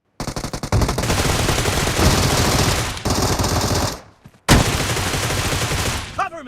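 Rifle gunfire in the video game PUBG Mobile plays as loud, rapid automatic bursts, nearly continuous with a short pause, with a voice faintly mixed in underneath.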